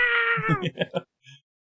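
A voice imitates adorable pixie boos, like kittens: a high, drawn-out meow-like squeal that drops in pitch into a few short choppy syllables, then one faint final peep.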